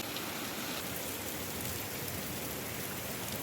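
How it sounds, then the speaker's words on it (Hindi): Heavy rain pours steadily and loudly without a break, a dense hiss of drops close by with nothing else standing out. "अल्लाह ताला ने इतनी तेज़ बारिश कर दी"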